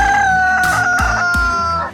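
A Shamo rooster crows loudly and close by in one long drawn-out call, with sharp low thumps breaking in partway through.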